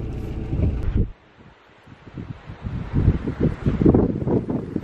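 Wind buffets the microphone on the coast near Keiss Castle and harbour in northern Scotland, a low, gusty rumble that drops out briefly, then returns stronger and keeps roaring steadily.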